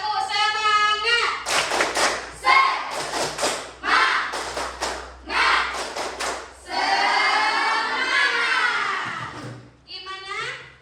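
Rhythmic group clapping from children doing the tepuk semangat cheer, sharp patterned claps in repeated bursts, with young voices chanting along and an adult voice at the start.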